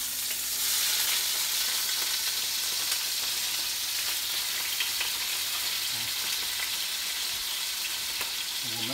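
Scallops sear in a hot pan, a steady broadband sizzle and crackle that runs loud and unbroken with no one speaking.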